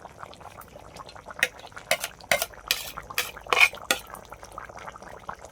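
A spatula stirs fried spice paste into a catfish and potato curry in a pot, giving a series of sharp scraping clinks of metal against the pan at an irregular, unhurried pace, close up with no talk.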